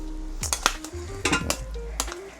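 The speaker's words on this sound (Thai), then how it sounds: "เราจะใส่ไปใน หม้อนึ่งแบบนี้ครับ" Chopped, washed chicken tipped into a metal rice steamer pot, giving several clanks and clinks of metal and utensils in quick succession, close and fairly loud, with no talking.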